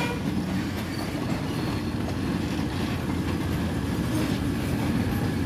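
An ALSTOM 4121 locomotive hauling a passenger train on Thai railway tracks, with a steady, loud, continuous rumble of wheels on rails and faint clatter throughout, close by.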